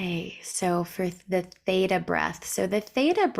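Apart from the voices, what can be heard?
No distinct noise like a dog, phone or traffic.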